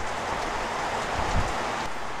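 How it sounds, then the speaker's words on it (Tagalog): Rain falling, a steady dense hiss of drops on surfaces, constant and moderately loud for the whole stretch with no voices. "Merong ulan na parating."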